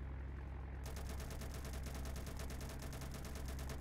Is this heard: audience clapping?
no